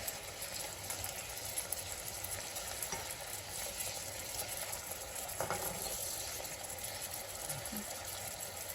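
Shrimp sizzle steadily in a hot pan while being turned over, a continuous frying hiss with occasional soft scrape and clatter, a voice talking faintly over it.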